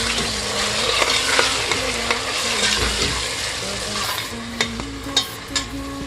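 Ginger-garlic and green chili paste sizzles loudly in a pan with meat and onions for Lucknowi korma, a continuous close frying hiss with stirring scrapes and a few sharp spatula knocks toward the end.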